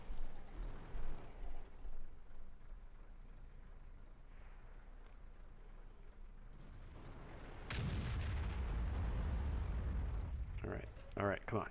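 A tank gun firing in the video game World of Tanks: one sudden heavy boom sets off a deep, sustained rumble under steady low engine drone, while a voice talks faintly throughout.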